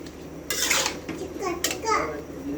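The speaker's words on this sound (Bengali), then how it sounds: "এবার আবারও একটু নেড়ে চেড়ে নেব।" Winter vegetables are stirred in a pan, with a few close metallic scrapes and clinks of a utensil against the pan, while a voice and other speech are heard in the background.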